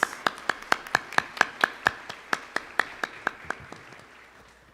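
Applause during a Catholic Mass, heard as steady rhythmic clapping with about sixteen evenly spaced claps in a reverberant church, fading slightly toward the end.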